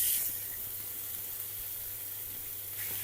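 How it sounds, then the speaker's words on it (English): Minced lamb with garlic in hot oil sizzles steadily in a pan, a continuous close hiss with a slightly louder burst at the start and end. "So in goes your oil, bit of garlic, and I'm going to be throwing in our minced lamb."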